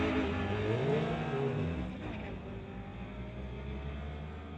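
Drag race engines from a 1985 Porsche and a 1993 Honda Civic roar loudly, a rising rev dipping after two seconds into a steady, slightly quieter drone.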